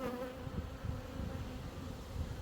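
Honey bees buzz continuously around an open hive during a routine frame inspection, a dense droning hum close by with no talk.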